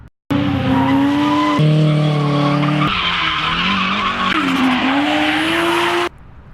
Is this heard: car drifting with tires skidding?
yes